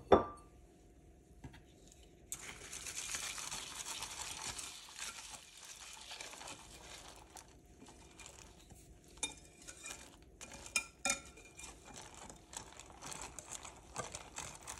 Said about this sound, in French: ensuite j'ajoute le granola mixé. Je mélange.